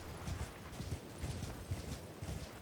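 Horses in the video game Elden Ring clip-clop along at a steady walking pace, hooves thudding in an even rhythm under a constant wash of wind-like ambient noise.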